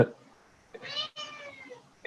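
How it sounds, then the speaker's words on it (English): A house cat meows in the background, a drawn-out two-part cry of about a second, clear and fairly close, between brief snatches of talk. "my cat is in the background"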